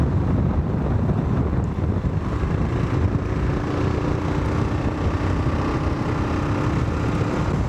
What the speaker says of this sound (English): that wind, it really makes the wind rush over you